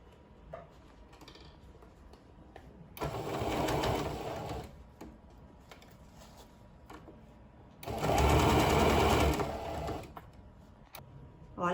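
Sewing machine stitching fabric lining onto a knitting and crochet needle case, running in two steady buzzing bursts of a few seconds each, separated by quieter handling sounds.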